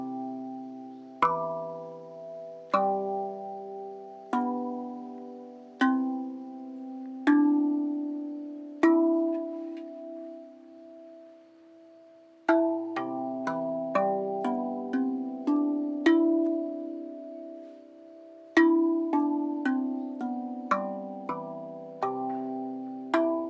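A Rav Vast steel tongue drum in the A Rus scale, its notes struck one after another: clear, bell-like tones, each ringing out and decaying, rising through the scale with a quicker run of strikes later on.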